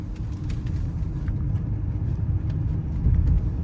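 A 2021 Audi Q8 S-Line, a 5,000-pound SUV with 50k miles, takes a corner, heard from inside the cabin as a steady low engine and road rumble that swells slightly toward the end.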